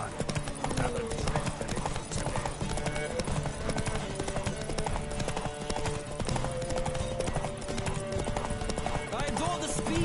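Horses gallop in a race in The Witcher 3 video game, rapid clip-clop hoofbeats pounding continuously and loudly over a dense mix of game music and ambience.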